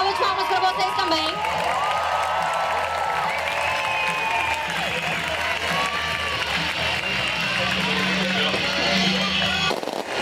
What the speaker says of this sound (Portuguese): Então, uma salva de palmas para vocês também.